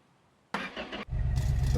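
A Chevrolet El Camino engine cranks briefly, then catches and settles into a loud, steady running rumble close by, with no speech.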